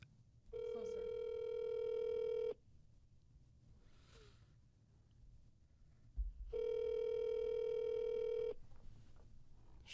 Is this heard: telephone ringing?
yes